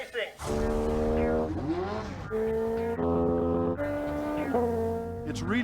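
Amateur race cars on a dragged track, loud nearby engines droning in strong steady tones that jump and sweep in pitch as they rev and shift, several passes in a row.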